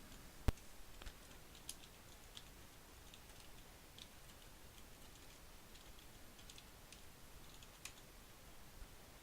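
Faint, sparse key clicks from someone typing a new deck name on a computer keyboard, scattered light taps over a quiet room hiss with no talking.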